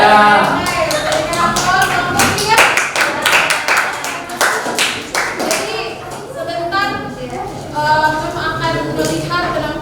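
A classroom group claps for group 1 after their presentation, with a steady burst of close, fairly loud clapping that rises and thins out, while children's voices chatter underneath.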